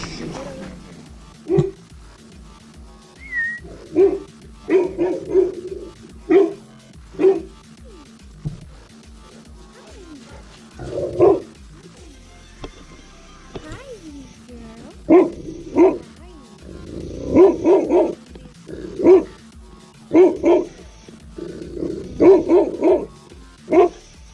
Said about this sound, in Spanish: Y ahora vamos a ver los perritos.